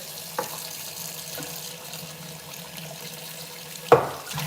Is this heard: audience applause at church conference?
no